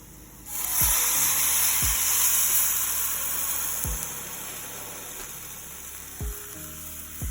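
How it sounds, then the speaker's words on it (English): Couscous in a pot of water hisses and sizzles at a boil, a strong steady seething that swells sharply, then eases a little, with a few faint knocks scattered throughout. "So as you can see, the couscous is now at a boil."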